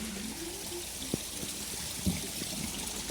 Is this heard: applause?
no